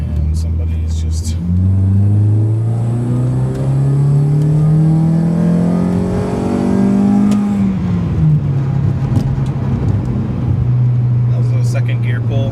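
Car engine fitted with a new exhaust header pulling through second gear, a loud rising exhaust drone that climbs steadily, then drops to a lower steady cruise, heard from inside the cabin.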